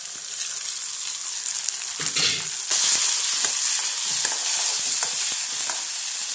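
Shallots, tomato and sliced green chillies fry in a pan for a beef curry, giving a steady close sizzle with brief scraping stirs and a louder crackling burst partway through.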